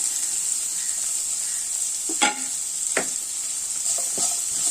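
Two long-sliced onions sautéing in a pan for a pepper squid roast, a steady close sizzle with a few scraping stirs poking through.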